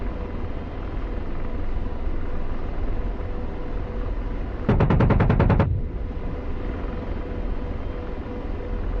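A sharp, rapid burst of machine gun fire, about a second long, cuts through the steady whine and rumble of a helicopter in a flight game. The rotor and engine drone carries on before and after the shots.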